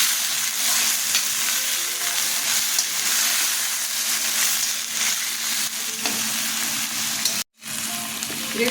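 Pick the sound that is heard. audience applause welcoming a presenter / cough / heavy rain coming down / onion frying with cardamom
onion frying with cardamom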